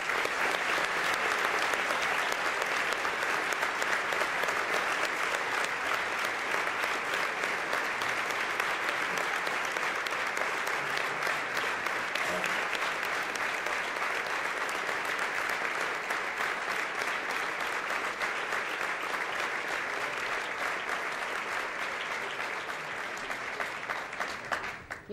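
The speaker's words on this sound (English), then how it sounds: "the audience to honor them with a round of applause" Sustained applause from a large audience at the Institute of Ismaili Studies Silver Jubilee celebrations, steady and dense clapping for over twenty seconds, tapering slightly at the very end.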